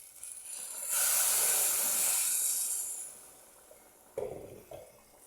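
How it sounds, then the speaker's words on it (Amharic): Water poured into a hot, frying tomato mixture for tomato kabsa sets off a loud burst of steam hiss that fades over a couple of seconds, followed by a few clattering pan knocks. "ውሃ እንጨምርበታለን የሚበቃውን ያክል።"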